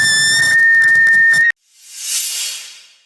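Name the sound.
whistling from the door of a Jayco Entegra motorhome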